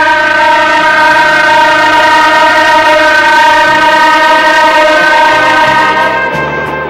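A loud, sustained train whistle blares without a break, rich and harmonic, with the low rumble of a moving train underneath; no speech.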